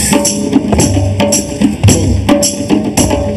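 A drum pounds out a steady, regular beat, each hit a sharp thump ringing briefly before the next, with no talking.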